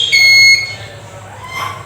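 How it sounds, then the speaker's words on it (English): A Super Scanner handheld security metal detector gives a short, loud, steady electronic beep tone lasting about half a second, then a fainter chirp near the end, with low background hum. "this metal detector will beep at this here"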